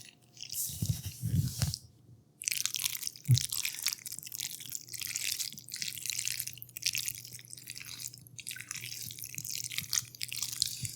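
Wet, sticky squelching and stirring of thick macaroni and cheese in a pot, with soft clicks and a brief pause, close up.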